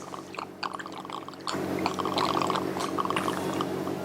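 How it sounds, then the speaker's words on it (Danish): Shots being poured from a bottle at a bartending lesson, a soft trickle that becomes a steadier, fuller flow of liquid midway, close up and alone without talk. "for eksempel skal hælde shots op"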